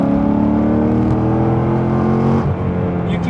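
Car engine fitted with a Vengeance Stage 4 cam revving hard and loud up close, a sustained high-rpm drone with strong harmonics that dips and picks back up near the end.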